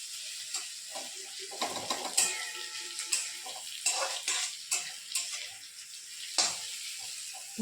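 Pasta cooks in a home kitchen pan with a soft sizzle, broken by intermittent scraping and clinking as a utensil stirs it; quiet and close, with no voices.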